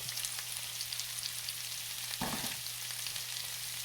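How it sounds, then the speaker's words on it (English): Squash sautés in a pan, a faint even sizzle with a low hum underneath and one short burst of stirring or scraping partway through. "we are sauteing this squash"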